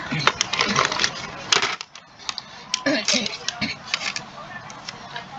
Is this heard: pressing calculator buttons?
yes